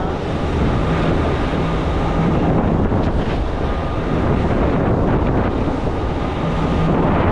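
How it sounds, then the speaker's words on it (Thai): Loud, steady roar of wind and churning sea, with one-to-two-metre waves breaking continuously around an open fishing boat, rain falling, and gusts buffeting the microphone. "คลื่นใหญ่มากนะครับ"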